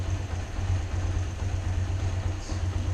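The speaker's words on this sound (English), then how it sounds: "Start the engine." A motorcycle engine idles steadily during a Korean motorcycle licence test, a close low rumbling throb holding an even pulse with no talking.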